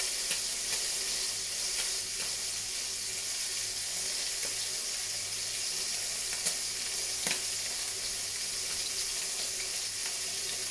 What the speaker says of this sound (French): les magrets sont en train, toujours côté graisse, de rôtir